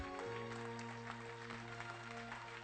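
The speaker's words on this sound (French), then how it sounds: "Applaudissez le Seigneur Jésus." A church congregation claps softly for a few seconds over a held, sustained keyboard chord, the applause faint and diffuse beneath the steady tones.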